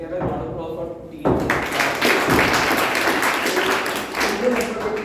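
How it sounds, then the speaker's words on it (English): A room of people at a Toastmasters meeting breaks into a sustained round of applause for a team, with dense steady clapping that starts abruptly and continues, faint voices underneath. "And we have a round of applause for team."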